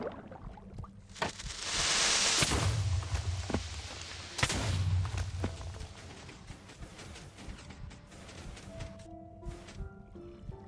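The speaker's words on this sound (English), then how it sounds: "so that's like a full explosion." A loud, roaring Minecraft explosion bursts in, followed by a second booming hit and rumbling debris, then quieter game noises and faint tones trailing off.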